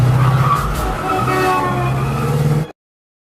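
Car in an action film scene, tires screeching and engine roaring as it speeds off, loud and close, then cutting abruptly to silence.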